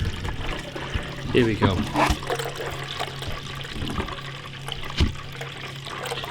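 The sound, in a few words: water pouring through beer lines from tap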